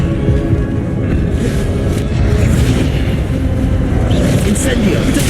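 Expelliarmus spell effect in the Hogwarts Legacy video game, heavy rumbling booms and pops amid loud ongoing combat, with a voice talking over the action.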